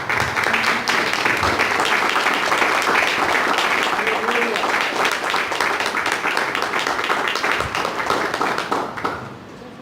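A church congregation gives sustained applause, a dense, loud wash of clapping that fades slightly at the end, with voices mixed in.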